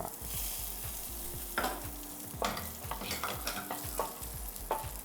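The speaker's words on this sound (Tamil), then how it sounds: "இதே பேன்லேயே நம்ம வந்து ட்ரை கிரேப்ஸையும் ரோஸ்ட் பண்ணுவோம்" Raisins roasting in a pan: steady sizzling with repeated scraping and stirring strokes, close and fairly quiet, no voices.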